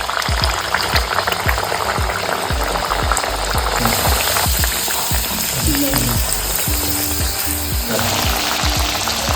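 Green pea kachoris sizzle and crackle in hot oil in a kadai, a loud, continuous frying hiss with dense popping bursts, shifting slightly as more pieces are added.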